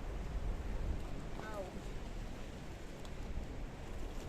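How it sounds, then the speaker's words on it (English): Strong wind rushes across Kato Paphos harbour in Cyprus as a steady, close broadband roar, buffeting the microphone with no clear breaks and only a brief faint whistle partway through. "The wind is too strong."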